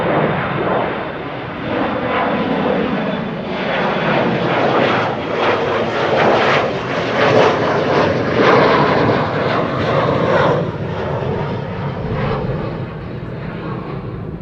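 Airplane engines at Amsterdam Schiphol Airport, a loud, steady roar that holds for the whole stretch and eases off slightly near the end, heard from a distance outdoors, with faint talk now and then.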